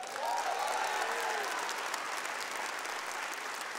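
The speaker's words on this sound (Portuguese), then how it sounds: "Pode aplaudir." Congregation applause in a church: a steady wash of many hands clapping, moderately distant and even throughout, with a faint voice briefly rising over it at the start.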